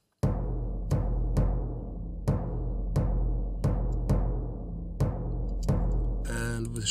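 Layered timpani and acoustic mid-tom hits in a medieval cinematic drum part, eight booming strikes in a steady pulse, each ringing into the next, with a brief rattling shaker at the very end.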